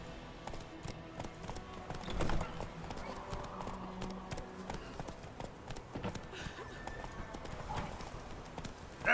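Roach the horse galloping in The Witcher 3, a rapid run of hoof clip-clops with a brief whinny, heard under speech and game sounds.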